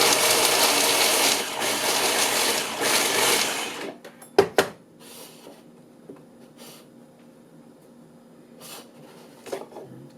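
A kitchen blender whirs loudly and steadily through a veggie burger mixture for about four seconds, then cuts off, leaving a few faint clicks and clunks in a quiet room.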